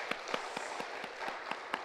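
A church congregation at a Korean Sunday worship service claps together in a quiet, even rhythm, with about eight sharp beats in quick succession.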